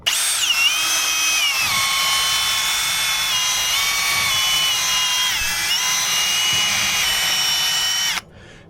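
A power drill fitted with a brush attachment whines at high pitch while scrubbing carbon from a diesel injector seat in a TDV6 Range Rover engine, running steadily with slight pitch dips before stopping abruptly.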